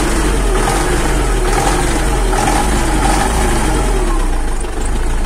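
A tractor engine runs just after a cold start in frost without preheating, its motor still frosted over. The idle is loud, steady and close, a rough low drone that goes on without a break and has no talk over it.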